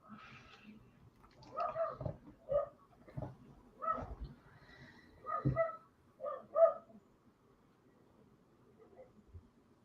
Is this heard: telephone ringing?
no